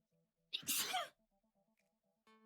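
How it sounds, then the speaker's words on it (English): A single loud sneeze bursts out sharply and ends within about half a second. It is set against a quiet background with a faint low electronic hum and a short tone at the end. "Am I gonna sneeze?"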